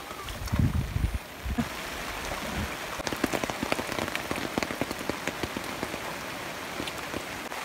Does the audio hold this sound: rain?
yes